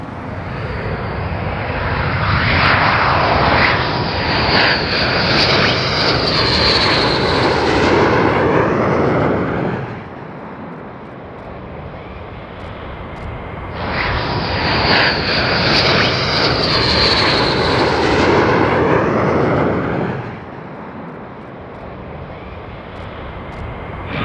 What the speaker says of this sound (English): you can hear, we've got the first two F-35s back